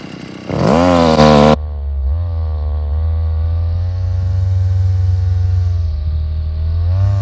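A small two-stroke string trimmer engine revs briefly, then settles into a steady, buzzy idle close by with slight wavering in pitch.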